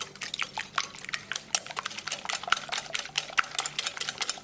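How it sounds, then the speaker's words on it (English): A whisk beats eggs seasoned with black pepper and degi mirch in a bowl for a popcorn chicken batter, a fast, steady run of light clicking taps, close and moderately quiet with no talk. "With the help of whisk, we're going to beat it well."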